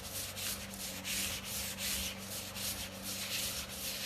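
Fast, rhythmic rubbing of a Chalk Couture transfer over foil on canvas makes a close, scratchy swishing that repeats steadily in short strokes, quiet but continuous.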